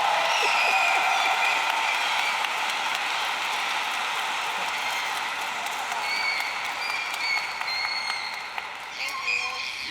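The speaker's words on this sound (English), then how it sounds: "how about one more round of applause for this young lady?" Applause at a college commencement ceremony, a broad, sustained round of clapping from a large crowd that slowly thins, with a voice speaking over it toward the end.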